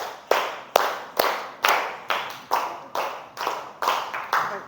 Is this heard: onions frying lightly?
no